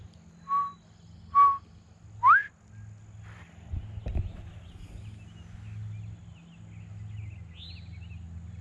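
Three short whistled notes, the last rising sharply, imitating a bobwhite quail call, followed by quiet outdoor ambience and faint distant birdsong in South Georgia.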